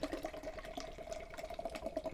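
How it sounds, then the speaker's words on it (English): Guinness from a can pours into a glass, a faint, soft liquid trickle and fizz heard up close and quietly, without any talking. "So I'm going to pour the Guinness in the glass."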